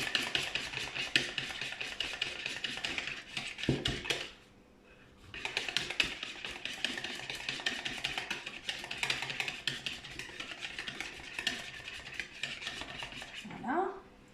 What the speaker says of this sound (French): je vais mélanger mes 3 jaunes avec mon chocolat fondu et ma crème